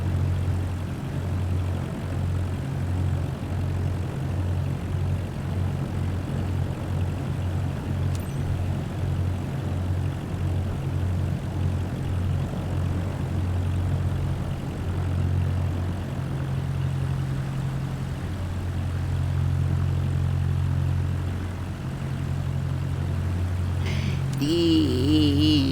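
Simulated airplane taxiing along a runway in Microsoft Flight Simulator 2024, a steady low droning engine hum that holds throughout with slight pitch shifts, ending in a brief rising whine near the close.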